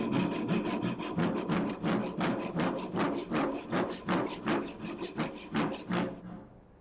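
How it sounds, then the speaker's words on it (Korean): A hand saw rasps through wood in a steady back-and-forth rhythm of about a dozen close, loud strokes, then stops abruptly. "이렇게 생긴 톱을 가지고 나무를 써니까 이런 소리가 났습니다"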